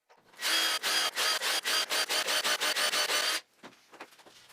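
Power drill boring pocket holes in wood pieces for a ping pong table base, a run of about a dozen short, loud, rhythmic bursts close by, then quieter handling and scraping noises.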